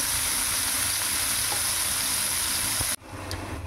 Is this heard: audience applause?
no